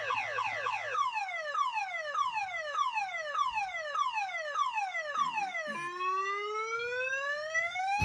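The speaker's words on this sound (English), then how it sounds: "what happened to the car alarm?" A classic car alarm cycles through its patterns, repeated rising and falling wails followed by a steady rapid warble, loud and alone without voices.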